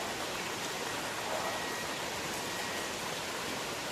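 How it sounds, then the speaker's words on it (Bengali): Steady rain on a day of nonstop downpour, heard as an even, moderately faint hiss that never lets up, with no voices. "বৃষ্টিতে থামবে বলে মনে হয় না।"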